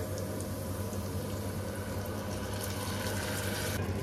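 Blended tomato pours into a hot pan of oil for a vegetable pickle, giving a steady, close wet rush and sizzle that holds evenly throughout with no talking.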